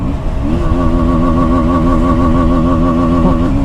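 A KTM Duke 160 motorcycle with underbelly exhaust holds a loud, close, sustained engine drone with a wavering pitch, as if revving against the rev limiter, on a Bangalore road.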